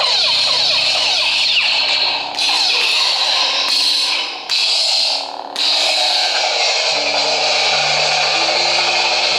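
Anakin-style lightsaber sound font played on a saber, a bright buzzing blade hum with crackling clashes and flickering lockup bursts, then a low steady idle hum toward the end.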